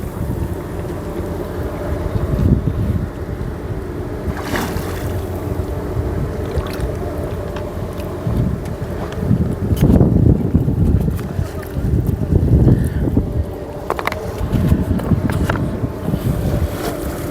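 Strong wind blows over the open water near a maritime university, roaring into the microphone in heavy gusts that swell and fade, loud and close, with a boat-like low rumble beneath and bursts of talking mixed in.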